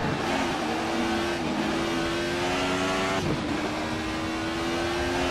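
An Alfa Romeo 155 V6 TI race car's V6 accelerates hard around Mugello in Assetto Corsa, a loud continuous rising engine howl with brief dips at gear changes, close and dominant, with no talk.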